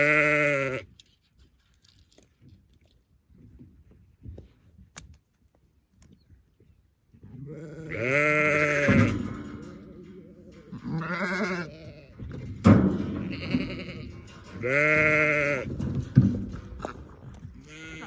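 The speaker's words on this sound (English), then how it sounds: "So we've got a sheep here" Sheep bleat on a farm during lambing season, one of them a ewe with a bad back foot, giving several loud, close, wavering bleats in separate calls across the clip with quiet gaps between.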